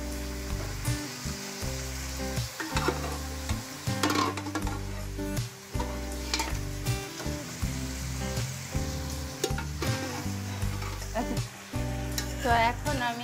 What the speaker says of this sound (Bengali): তো এখন আমি মাংসটাকে ভালো করে মশলার সাথে মিক্স করে নিচ্ছি